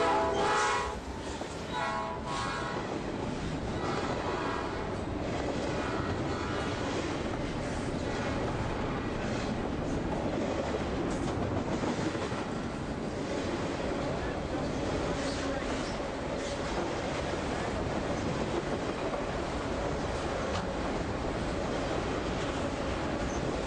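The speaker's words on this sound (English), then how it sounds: "NS Train 223 comes blasting by, making plenty of noise for the rail fans" Norfolk Southern train 223 passes loudly near the listener, a horn blast at the start giving way to a long, steady roar of rolling cars and wheel noise that continues throughout.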